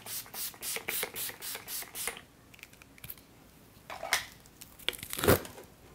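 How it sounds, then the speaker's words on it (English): Setting spray is misted onto the face before concealer goes on. About eight quick, evenly spaced spritzes come first, then quieter rustling and a couple of softer hisses close by. "So what I'm gonna do before I even start applying concealer is just mist my face with this."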